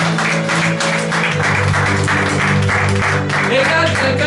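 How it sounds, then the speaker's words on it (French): A church congregation at a Sunday service applauds loudly, with dense continuous clapping and cheering that fills the whole stretch, over steady music. "Acclame très fort."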